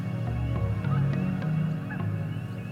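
A goose honks several times over a steady bed of other sound, with calls standing out at moderate distance.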